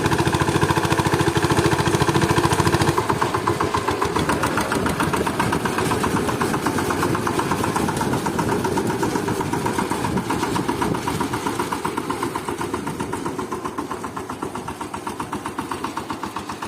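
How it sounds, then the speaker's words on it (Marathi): A tractor engine runs steadily at close range in a field being ploughed, a loud, throbbing mid-pitched chug that holds constant throughout with a slight easing toward the end. "इकडे ट्रॅक्टर लावला आपल्या भावाने आवाज येत आहे"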